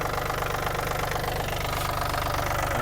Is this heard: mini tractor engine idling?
yes